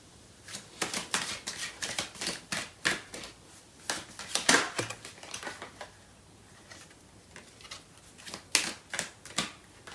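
Tarot cards are shuffled in quick, crisp rustling bursts of flicking card edges. The bursts come in uneven clusters with brief pauses, close and fairly quiet.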